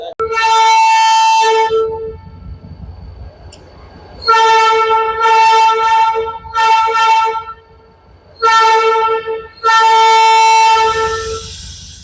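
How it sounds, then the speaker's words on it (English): A loud, deep multi-tone horn blasts repeatedly in long and short bursts, like a train horn, with quieter gaps of background noise between. "it sounds like the horn off of a MARTA subway car"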